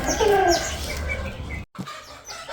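Roosters kept for a gamecock show cluck and call close by in a dense, continuous chorus, with a brief cut partway through before the clucking resumes more faintly.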